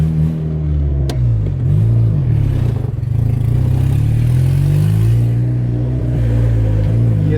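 A twin-turbo Honda Civic engine runs loud and close, its pitch rising and falling through several revs over a rough, clattery idle, with another car running nearby.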